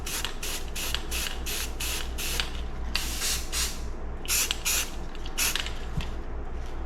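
Spray paint hissing from an aerosol can onto a manifold for stamping a chainsaw gasket on a vintage Montgomery Wards Featherlite saw, in a series of short close bursts with brief pauses between them.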